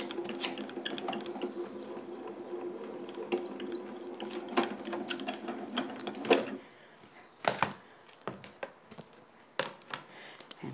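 Grand Calibur die-cutting machine being hand-cranked to cut cardstock, a steady close ratcheting, gear-driven whir for several seconds, then a few separate clicks and clunks as the cranking stops.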